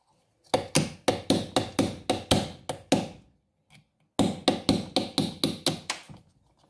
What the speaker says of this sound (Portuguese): Com o auxílio do prego, já retirei o pino elástico.